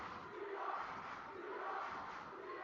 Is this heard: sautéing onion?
no